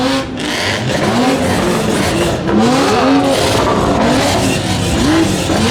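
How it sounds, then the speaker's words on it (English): Car engines rev repeatedly in loud, rising and falling bursts, close by and continuous, like several vehicles throttling up one after another, including a lowered BMW M3. "Everybody's revving it."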